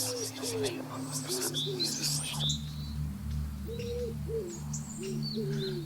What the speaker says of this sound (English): birds are twittering